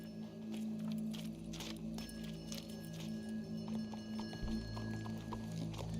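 Horse hooves clip-clop in the video game Red Dead Redemption 2, a series of soft, fairly faint hoof knocks over a low ambient hum, with no talking.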